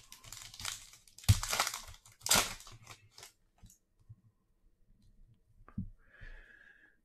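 A 2021 Donruss football card pack being torn and crinkled open, with a few sharp bursts of foil ripping and rustling close up, then quieter handling of the cards.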